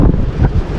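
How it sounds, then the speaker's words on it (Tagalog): Strong gusts buffet the microphone outdoors, a loud low rumbling roar that holds steady without pause and drowns out other sound. "grabing hangin"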